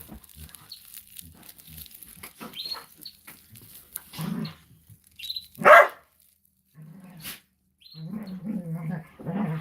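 A pet dog gives one sharp, loud bark in a room, set between stretches of someone talking quietly before and after.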